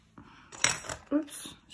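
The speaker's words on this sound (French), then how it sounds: "Oups, je fais tomber mes perles." Small diamond painting beads dropping and spilling, a short clatter of tiny plastic bits scattering across a surface, heard close up with a few quick bursts under light background noise.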